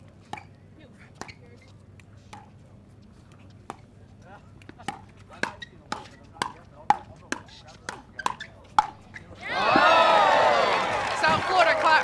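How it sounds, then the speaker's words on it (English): Crowd at a South Florida pickleball match breaks into loud cheering and applause near the end, after a run of sharp paddle pops during a women's doubles gold medal rally. "South Florida crowd likes that."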